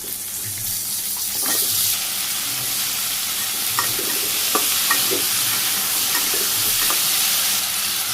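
Vegetables dropped into hot oil with cumin seeds and chopped onion in a village kitchen, a steady close sizzle with scattered stirring scrapes and knocks.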